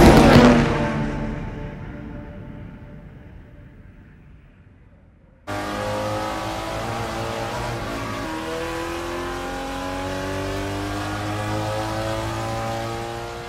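A race car roars past at full throttle, then a steady high-pitched engine scream holds as it keeps driving hard, close and loud.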